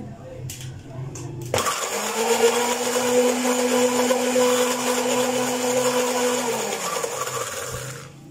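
An electric blender whirs steadily for several seconds through an egg mayonnaise mixture with lemon, starting abruptly after a brief pause and holding a loud, even motor drone before winding down.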